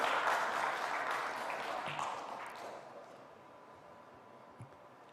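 Audience applause following a remark at an Indonesian education policy presentation, fairly loud at the start and gradually fading to a quieter patter over about five seconds, with no talk over it.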